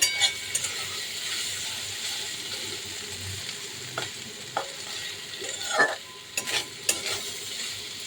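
Steady crackling sizzle of food frying in a pan, with occasional utensil scrapes and clinks standing out over the hiss.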